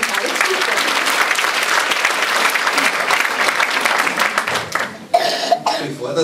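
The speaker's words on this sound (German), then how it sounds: "Applaus für euch" Sustained audience applause at a local talent show fills most of the stretch, dense and loud, then thins into scattered claps near the end with a few coughs and brief voices.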